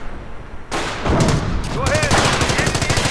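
Heavy machine gun firing in a World War II strategy video game, rapid sustained bursts of loud, close automatic fire with a few heavier booms, as a voice talks over it.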